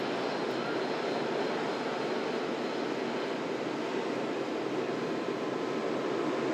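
Emirates Airbus A380 jet airliner at Manchester Airport, a steady broadband engine roar that holds evenly loud throughout, with no voices.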